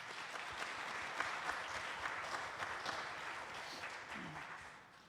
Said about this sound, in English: Let's give our wonderful team a round of applause.